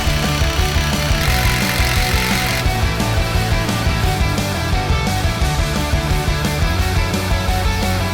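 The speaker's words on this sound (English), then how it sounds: "So we're going to hammer drill it." Hammer drill boring into concrete to set anchors while mounting a mini split unit for an Airstream trailer, a loud continuous grinding rattle running steadily throughout with no talk.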